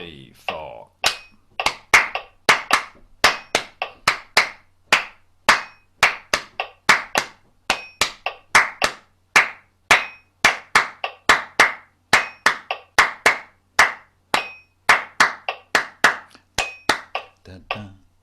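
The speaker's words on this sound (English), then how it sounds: "And after 4, we'll start that clapping." Rhythmic hand clapping during a whole-tone scale music warm-up session, a long run of sharp, close claps in an even, steady beat, often grouped in quick pairs, with voices faintly counting underneath.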